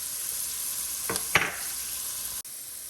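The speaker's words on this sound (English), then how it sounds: "you're just gonna let those saute" Onions sauté in a pan for a Thanksgiving side dish with a steady, soft sizzle and a couple of brief spoon-scraping stirs partway through. No voices are heard.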